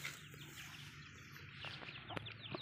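Soft, low clucking from hens in a quiet outdoor setting, with a few sharp bird calls cutting in near the end.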